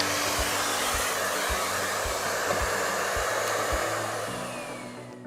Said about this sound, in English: You can also check it by running the vacuum cleaner at maximum power